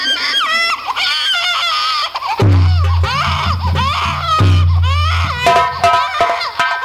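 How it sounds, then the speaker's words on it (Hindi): A baby girl cries in a Hindi dramatized scene, abandoned by the roadside: repeated high, wavering wails come close and loud, with a low sustained musical drone entering partway through. "आखिर ये बच्ची की रोने की आवाज किधर से आ रही है"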